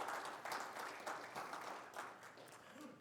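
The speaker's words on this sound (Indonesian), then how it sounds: "Yang setuju, tepuk tangan buat Tuhan Yesus." Congregation clapping at a Sunday afternoon church service, a faint, brief burst of scattered hand claps lasting a few seconds.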